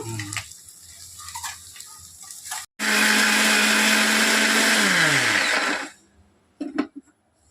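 Mixer grinder whirs loudly for about three seconds grinding coriander seeds, cumin, fenugreek and dried red chillies, its motor pitch sliding down as it spins to a stop, with faint clinks before and after.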